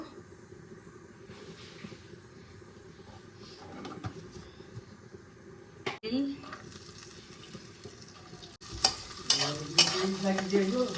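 Ghee heats in a wok for halwa while a spoon scrapes and clatters against the metal. A soft hiss builds to a louder, busier sizzle toward the end.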